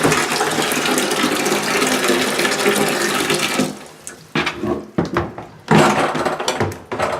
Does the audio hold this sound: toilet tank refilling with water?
yes